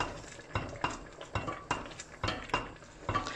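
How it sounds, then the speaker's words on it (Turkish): A spoon stirs a tomato-based pickle sauce in a pot. The scraping and clinking strokes come in a quiet, regular rhythm several times a second, with no voices. "Şöyle karıştırıyorum."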